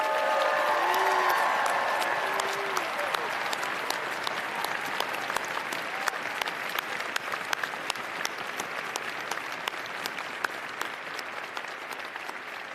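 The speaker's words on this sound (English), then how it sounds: "could I ask you for a huge round of applause for the academics and staff here at Cardiff University who have supported and guided you through your degrees" A Cardiff University graduation ceremony audience breaks into sustained applause, loud dense clapping that slowly thins into scattered individual claps over about thirteen seconds, with a brief murmur of voices near the start.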